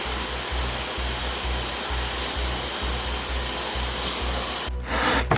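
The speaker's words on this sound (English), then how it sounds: "Shower time." A shower runs steadily, a continuous dense hiss of spraying water close by, with a faint low periodic hum beneath and a brief change near the end.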